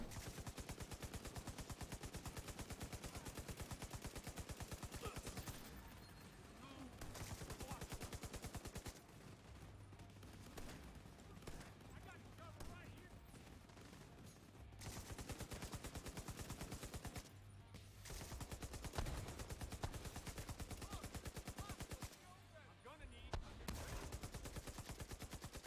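Automated turrets in The Division 2 fire long, rapid bursts, broken by short pauses. The gunfire is dense and continuous with no talking.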